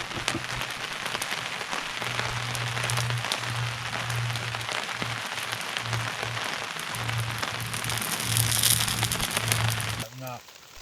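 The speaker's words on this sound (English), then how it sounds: "Since it's raining" Steady rain pattering on a camping tarp at a motorcycle campsite, a dense close hiss of drops with a low steady hum beneath and a brief clatter near the end.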